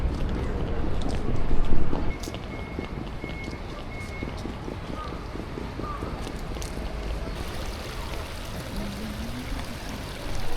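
The Takase River in Kyoto flows steadily with a broad, continuous water rush and some wind noise, and a brief louder swell near the start.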